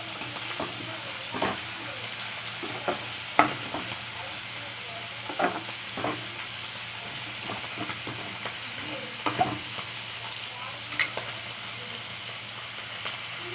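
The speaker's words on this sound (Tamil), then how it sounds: "நல்லா கிண்டி விட்டுக்கோங்க இந்த கருவாடை வந்து நம்ம ஒரு அஞ்சு நிமிஷம் வேக வச்சுக்கலாம்" Dried anchovies (nethili karuvadu) being stirred while they fry in a pan, giving a steady low sizzle broken by irregular soft scraping strokes of the spoon, close and fairly quiet, with no talking.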